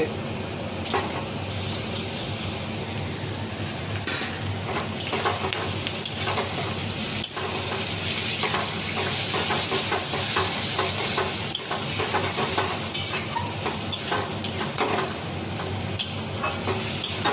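Marinated chicken pieces fry in a pan with a dense, continuous sizzle and crackle, close and steady, with scattered ticks and stirring clatter throughout.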